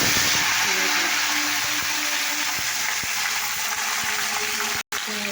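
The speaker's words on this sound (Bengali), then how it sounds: "এটাকে পরিমাণ মতো ফুটে দিচ্ছি" Chalta (elephant apple) curry with five-spice, dried red chillies and bay leaves boils in a pot, giving a steady, moderately quiet bubbling hiss with faint tonal hums beneath and one brief dropout near the end.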